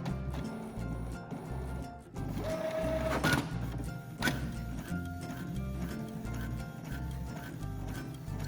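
A Brother DCP-T300 inkjet printer runs a quality test page, giving a steady mechanical hum with repeated ticking and shuttling carriage movements and a brief whirring pass, moderately loud and without speech.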